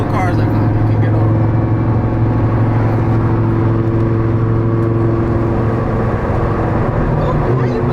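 A Lamborghini drives and accelerates with a loud, steady engine drone and rising road noise from inside the cabin, sustained throughout.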